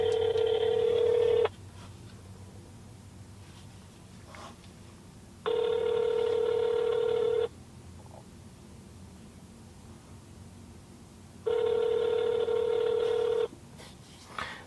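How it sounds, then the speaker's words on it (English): A phone call to a Kansas number rings on the line: three long electronic ring tones about two seconds each, separated by quiet pauses, heard faintly through the earpiece with no one answering. "See if they answer the phone."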